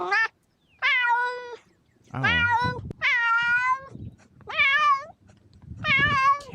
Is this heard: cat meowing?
yes